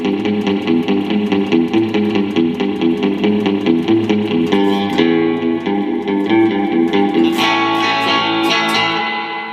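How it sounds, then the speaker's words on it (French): Fender-style spring reverb on an electric guitar, modeled in Amplitube 5: steady picked notes ring through a splashy, drippy reverb tail, with brighter strummed attacks near the end, alone and without talk. "la réverbération à ressort, mais surtout celle de Fender"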